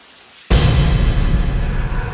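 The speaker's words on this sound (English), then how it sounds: "Can you hear that? Is it rain? It's the shower." Shower running in the video game Deadly Premonition Origins: after half a second of near silence, a steady, loud broadband rush of falling water kicks in abruptly and continues evenly to the end.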